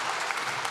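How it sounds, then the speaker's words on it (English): An audience at a campus and community radio awards gala breaks into applause for Sheila Rogers, a very short, steady burst of crowd clapping. "let's give a big round of applause for Sheila Rogers"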